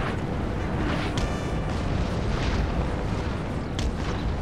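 Cannon artillery fire in the Napoleon: Total War battle game, a steady distant rumble of bombardment with a few sharper bursts, no talk.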